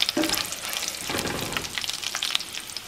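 Chiles and sesame seeds fry in a pan, giving a bright crackling sizzle with scattered pops and a brief stirring scrape, close and continuous with no talking.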